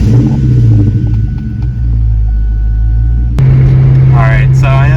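Ford Mustang cruising on a back road at night, a loud, close, steady low engine rumble and road noise with a brief dip in the middle; a voice talks briefly near the end.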